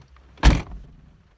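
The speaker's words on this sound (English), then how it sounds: "And if we do the door slam test," A single solid car door slam from a 1989 Ford Sierra 1.8 GL, close and loud with a deep thud that decays quickly into quiet.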